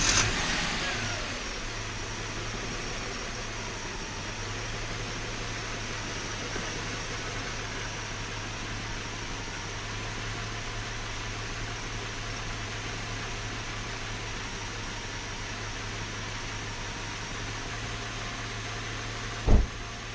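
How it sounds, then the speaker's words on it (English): Subaru EZ30 flat-six engine idling smoothly after head gasket work, a steady low hum with a faint whine that runs unchanged for twenty seconds, closing with one sharp click. "It's not idling rough anymore."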